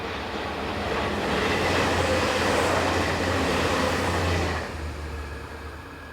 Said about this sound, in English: we see this view of a pair of Class 612s with 612087 leading